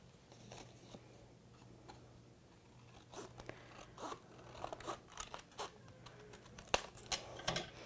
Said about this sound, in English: you could cut using your scissors. So just cut along that line.